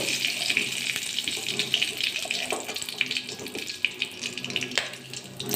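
Whole cumin seeds with bay leaf crackle and sizzle in hot oil in a kadai, a steady close hiss with scattered pops as the spices fry, and a voice talks over it.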